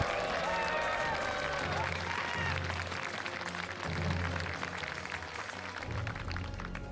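A large crowd claps and cheers at an IEM Katowice 2022 StarCraft II esports match, sustained loud applause with a caster speaking over it.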